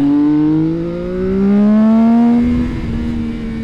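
A CFMoto 675 SR-R motorcycle engine pulls hard through the revs, its loud rising drone climbing steadily with a shift partway through before easing off, heard from on board.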